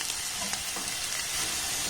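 Potatoes and carrots fry in oil in a pan, giving a steady, close sizzle with faint scraping as the pieces are stirred.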